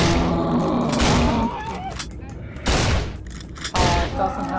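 A shotgun fires in a horror video game, several loud booming blasts separated by short gaps, with a voice talking faintly underneath.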